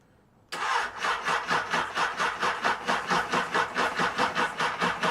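A Honda CB600 Hornet motorcycle engine is cranked by its starter after a short quiet pause, a loud close whirring that pulses rhythmically about four times a second without catching. There is no talk.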